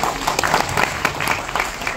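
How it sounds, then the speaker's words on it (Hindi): An audience at a stage promotion event for the film Purvanchal claps loudly, a brief, close burst of dense applause with a few sharper claps standing out. "मैं चाहता हूँ एक बार फिर से आप सब अपने लिए तालियां बजा दीजिए"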